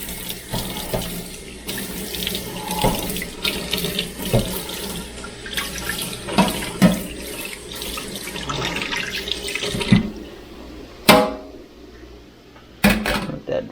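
A kitchen tap runs water over a basket being washed, a steady splashing stream close by with clatters and knocks of the basket against the sink.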